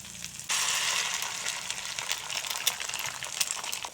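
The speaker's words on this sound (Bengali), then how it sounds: "এখন কড়াইতে অল্প তেল দিয়ে দেব একটা ফেটিয়ে রাখা ডিম" Beaten egg dropped into a little hot oil in a wok bursts into a loud, steady hiss and crackle of frying that starts abruptly and keeps sizzling with small pops.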